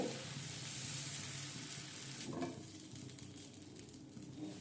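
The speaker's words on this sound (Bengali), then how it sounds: "কত সুন্দর এই ধোসাটাও ভেজে নিলাম" Moong dal dosa batter fries on a pan, a soft, even sizzle with faint hiss, fairly quiet and steady throughout.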